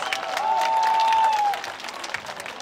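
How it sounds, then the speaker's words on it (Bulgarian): A wedding crowd applauds steadily, dense clapping throughout, with a sustained whistle-like tone rising over it in the first half. "Малко аплодисменти за най-готиния младоженец."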